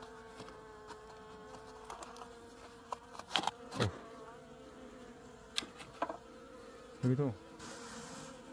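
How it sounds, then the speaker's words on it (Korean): Native Korean honeybees buzz steadily at the hive entrance in January, a dense close drone with scattered scraping and knocking sounds and a brief spoken word. "오, 벌이 너무 많이 났는데?"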